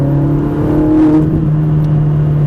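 A Ferrari 458 accelerates on a race circuit, its engine giving a steady, loud droning tone that swells slightly as it pulls, heard from inside the car without talk.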